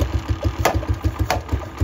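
A Honda CG125 motorcycle idles with a modified exhaust pipe, its single-cylinder engine putting out a steady, evenly pulsing low thump up close, with a faint rattle and two brief clicks over the top.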